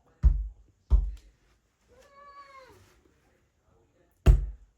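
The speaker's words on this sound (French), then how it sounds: "Non, mais vous en faites pas, c'est le chat. J'ai dû l'enfermer." Muffled thumps strike a closed door, then a cat meows once with a drawn-out, wavering cry from behind it, and a final loud knock follows. The meow sounds moderately near but dulled, and no one talks.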